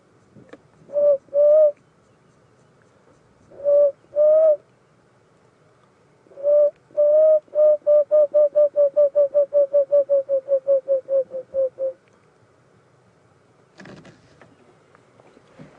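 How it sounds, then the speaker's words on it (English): An emerald spotted dove calls alone with soft, low coos on an evening safari drive at Djuma, South Africa: a few paired notes, then a long steady series of evenly spaced hoots that gradually fades out. "Called an emerald spotted dove or a green spotted dove."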